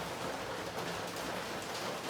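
Heavy rain falls steadily outdoors, a dense, continuous hiss that holds at an even level throughout with no voices over it.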